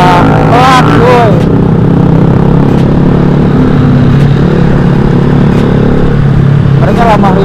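A motorcycle with a loud aftermarket exhaust drones and revs steadily in a crowded spot, close and loud throughout, while people talk over it.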